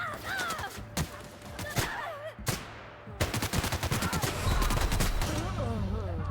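Automatic pink plasma energy weapons fire in The Outer Worlds. Dense, rapid bursts of shots are joined by whooshing, warbling effects, with brief pauses between volleys and near-continuous fire toward the end.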